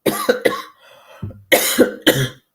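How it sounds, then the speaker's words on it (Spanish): Several close, harsh coughs in two bursts separated by a short pause, loud and near, with no talking. "cuando me resfrío me da un poco de tos"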